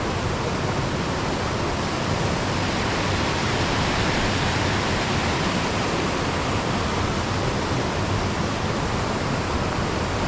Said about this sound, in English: Then it all eventually gets forced down into the splash pool at the bottom there, look.